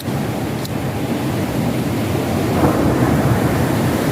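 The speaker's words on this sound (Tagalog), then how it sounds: "Malakas ang hangin guys" Strong wind roars and buffets continuously in a dense, rumbling wash of noise, loud and close, with no voices.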